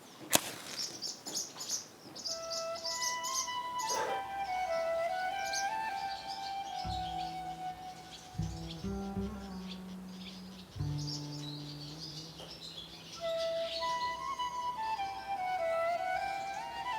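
Birds chirp and sing around a Byzantine church in rural Albania, a layered chorus of tweets and whistles from several birds at moderate distance over a faint outdoor hum, with a few lower calls in between.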